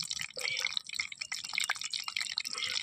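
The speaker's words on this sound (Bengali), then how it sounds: "এরকম চেপে চেপে জলটা ফেলে দেবো আমি।" Water drips and trickles from soaked potato pieces pressed down in a strainer, with faint, close, irregular splashes and patters.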